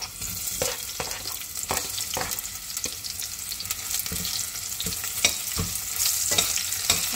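Onion sautés in olive oil, a continuous bright sizzle broken by regular stirring scrapes and soft pan knocks throughout, close and fairly loud, with no one talking.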